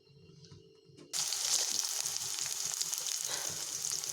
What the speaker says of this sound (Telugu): ఉల్లిపాయలు వేసుకున్నాం కదండి